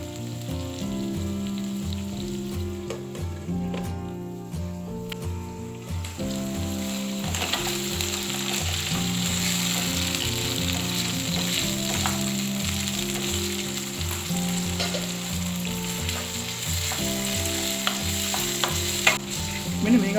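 Prawns and tomatoes stir-fry in hot oil for Sri Lankan style prawns, a loud, continuous sizzle with repeated scraping stirs and sputtering crackle, with no talking.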